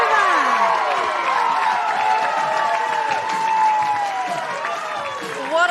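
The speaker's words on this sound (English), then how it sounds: "The crowd goes wild." A stadium crowd roars and cheers with sustained applause right after a women's rugby try by the Black Ferns, a dense, steady wash of clapping and shouting throughout, with voices rising and falling in the mix.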